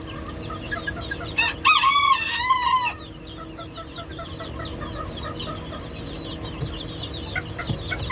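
A rooster crows once, loud and close, inside a coop while hens keep up a steady background of soft clucking and chattering for the whole stretch.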